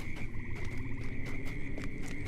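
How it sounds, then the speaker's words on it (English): A bog toad croaks in the marshland of Lord of the Rings Online, a run of low, rattling croaks over a steady ambient tone and soft game background, fairly faint and continuous. "Here's one of the bog toads."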